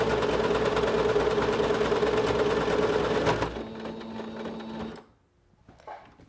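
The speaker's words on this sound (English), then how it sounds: "I'm going to keep pushing the pedal on the floor until the machine stops." Singer SewMate 5400 sewing machine stitching a buttonhole, a loud, fast, steady mechanical whir with a rapid needle rhythm that halts abruptly after about three and a half seconds, followed by faint quiet handling.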